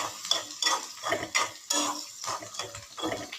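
Spices with turmeric fry in a pan, heard as a series of sharp, rhythmic scraping and clinking stirs against the metal, close and fairly loud, with no talk.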